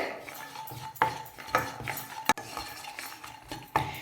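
A spatula scrapes and knocks against a pan as chana dal and gram flour dry-roast, with sharp metallic taps at irregular intervals over a faint, low sizzle.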